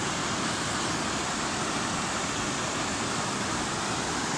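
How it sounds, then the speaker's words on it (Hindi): Meltwater from the Khosar glacier rushing down a stream channel toward a river, a dense continuous roar of flowing water, loud and close, with no break in the noise. "पानी यहाँ से इस नाले से जाके जो है दरिया में बहती है"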